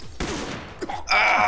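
Gunfire in the Western shooter game Fistful of Frags, a few sharp shots with echoing tails, then a harsher burst of blasting noise at the end.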